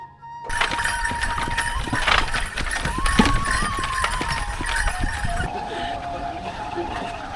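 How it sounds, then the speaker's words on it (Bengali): Hooves clip-clop in a steady trot beneath the rattle and rumble of a moving cart, with a faint voice and background noise mixed in. "ঘোড়ার গাড়ি বা মোটর সাইকেলে চরে আসতে হবে"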